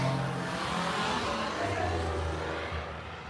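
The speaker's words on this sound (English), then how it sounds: "That was a smart car sounding like that." A car engine revs steadily and loudly throughout, a dense roar with a shifting low drone, heard up close with no clear talk over it.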